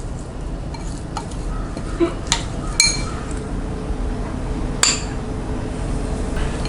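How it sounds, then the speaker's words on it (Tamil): Ghee is stirred into a Mysore pak mixture in a bowl, giving a soft continuous scraping with a few light clinks of a spoon against the bowl. "கொஞ்சமாக நெய் விட்டு இதை நல்லா மிக்ஸ் பண்ணி வச்சுக்கலாம்."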